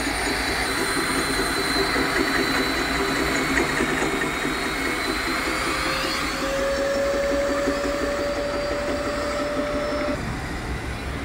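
A 2800 W Inco diamond core drill machine motor runs steadily and loudly, a dense mechanical whine with a rising tonal pitch partway through that cuts off near the end.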